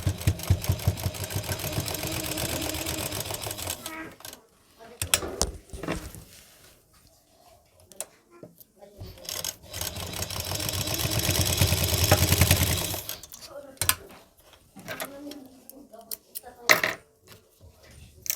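A sewing machine stitching salwar fabric runs in two long whirring bursts of rapid mechanical chatter, with short clicks and pauses between them and someone speaking in between.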